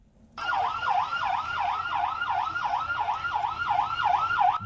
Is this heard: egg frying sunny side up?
no